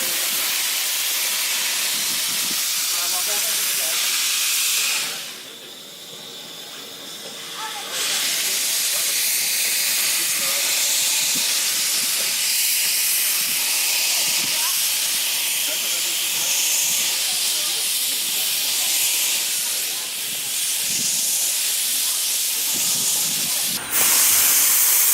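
Steam locomotive number 2 of the Baie de Somme railway hisses loudly as it moves off to couple onto a train standing at the station, a continuous roaring steam blast that dips briefly, then swells back with clanks and a sharp burst near the end.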